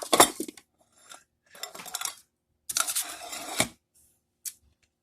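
A spoon stirs corn muffin batter in a bowl, giving several bursts of clinking and scraping against the bowl with short pauses between them. The strokes are close and crisp, and a final single tap follows.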